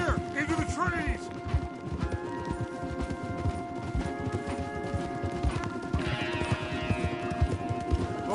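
Horse hoofbeats clip-clop in a steady rhythm in Red Dead Redemption 2 as riders move toward a forest path, with an occasional whinny, game music, and talking layered over them.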